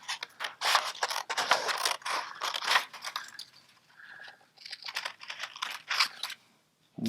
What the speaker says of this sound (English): cutting your figures out with your scissors for your ornaments.